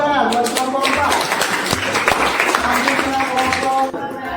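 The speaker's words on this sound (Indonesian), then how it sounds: "Tepuk tangan buat kelompok 4." Students in a high school classroom in Cirebon clap for a group, a busy run of claps that goes on under talking and breaks off near the end.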